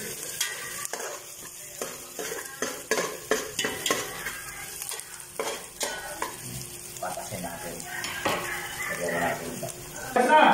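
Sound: stirring and frying food while cooking

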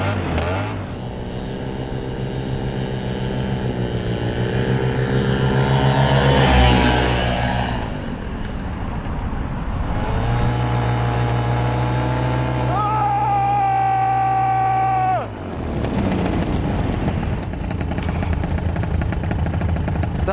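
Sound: paramotor engine and propeller taking off

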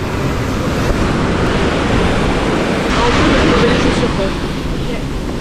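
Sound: ocean waves at Mirissa beach, Sri Lanka

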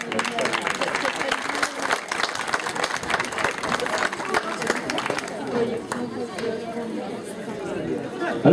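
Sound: audience applause at a folk dance festival

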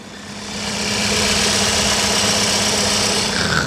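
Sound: Genesis G70 2.0 turbo engine idling

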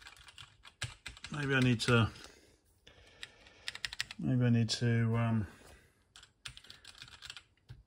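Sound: pressing reset and space keys on a COMX-35 computer keyboard

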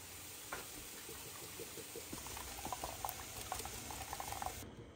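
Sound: corn atole boiling in a pot

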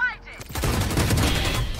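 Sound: gunfire in a video game

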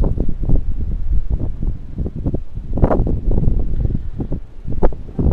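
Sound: wind howling

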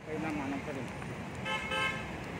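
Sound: car horns honking in Pune street

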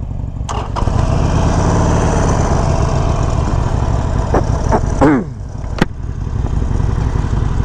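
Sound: Harley Davidson Sportster 48 motorcycle engine starting and idling

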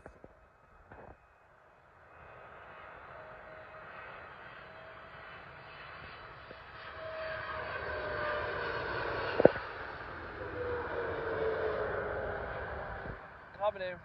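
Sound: Singapore Airlines Boeing 777 landing at London Heathrow

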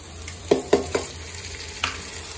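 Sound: chopped tomatoes frying and being stirred in mutton curry pan

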